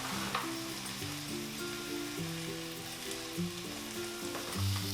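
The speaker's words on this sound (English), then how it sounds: "Stir together all of your ingredients and then cook for just a minute more." Collard greens sizzling in a hot pan while being stirred, a steady close crackle of frying with soft scraping, no voices.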